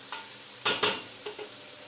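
Tuna pieces dipped into a hot Mediterranean sauce of onions, garlic and peppers in a pan, giving a few sharp sizzling bursts and stirring scrapes, close and otherwise quiet.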